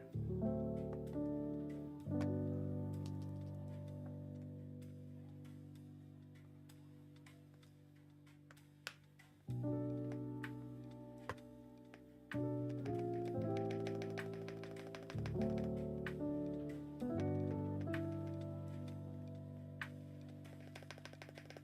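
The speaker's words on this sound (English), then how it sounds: "That spacebar sounds good." Spacebar stabilizers on a custom mechanical keyboard being tested, giving repeated clacking key presses with ringing sustained tones between them, close and fairly loud with no talk.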